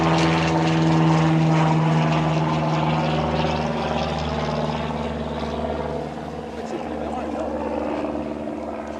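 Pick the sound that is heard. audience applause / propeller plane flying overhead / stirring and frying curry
propeller plane flying overhead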